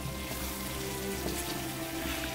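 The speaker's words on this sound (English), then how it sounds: "When paprika gets fried in oil, the flavor just comes right out." Red paprika frying in hot oil in a pan for Macedonian zelnik, a steady close sizzle that continues without a break.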